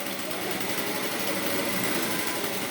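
A sewing machine stitches the round section of a wrap trouser, a steady continuous mechanical whir running close and loud throughout with no pauses.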